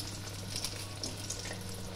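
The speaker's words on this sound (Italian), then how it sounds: "e le andiamo a friggere" Steady crackling sizzle of floured, egg-dipped zucchini slices frying in hot oil, continuous and close, with a low hum underneath and no talking.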